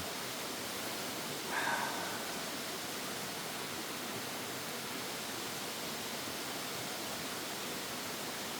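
Waterfall on a river, a constant, even hiss of falling water that fills the scene from start to finish with no pauses, close and moderately loud, a brief faint tone near the start.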